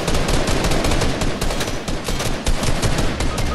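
Rapid, continuous gunfire from a Fortnite match, dense bursts of shots layered almost without pause at close range and high loudness for the whole stretch.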